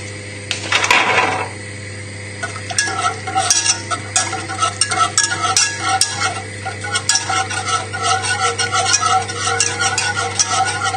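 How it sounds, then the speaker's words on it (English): A whisk works a butter sauce for lamb shanks in a pan over heat, a continuous close scraping and clinking stir with a loud clatter at the start, with no speech. "And then add that in, and then we're going to whisk that."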